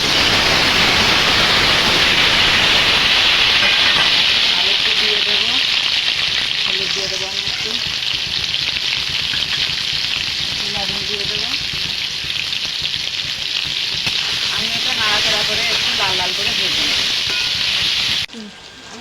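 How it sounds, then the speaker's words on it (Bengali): Potatoes fry in hot oil in a kadai wok, giving a loud, dense, continuous sizzle that holds steady throughout and cuts off abruptly at the very end. "এবার আমি আলুটা ভেজে নেব মাংসের জন্য"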